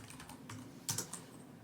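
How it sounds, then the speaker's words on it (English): Quiet keystrokes tap on a computer keyboard as text is entered into a drawing canvas in knitting-machine design software, a few soft clicks spread across a short stretch with a slightly stronger burst midway, no talking. "Now let's type in some words."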